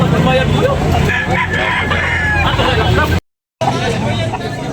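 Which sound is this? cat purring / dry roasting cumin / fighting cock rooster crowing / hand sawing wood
fighting cock rooster crowing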